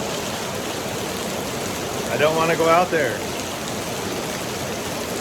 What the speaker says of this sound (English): We have not had this kind of rain probably all year. It's wild. It is pouring.